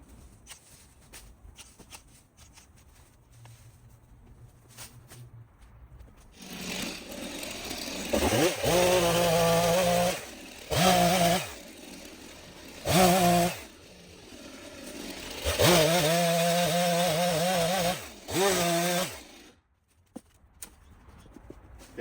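A power saw trims a tree of heaven in an overgrown abandoned backyard, the engine revving in several loud bursts with short idle gaps between cuts, preceded by quiet outdoor rustling.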